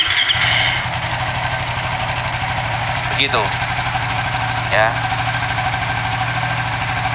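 A Suzuki FU 150 fuel-injected motorcycle with a bore-up engine idles steadily up close with a low, even throb, and two short rising revs break in partway through while someone talks over it.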